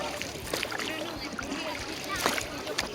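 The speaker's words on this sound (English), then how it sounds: "So he's rowing out." A small rowboat is rowed out from shore on the sailing coast near Cape Finisterre, with steady watery sloshing and splashes of oars under continuous nearby outdoor ambience and people talking.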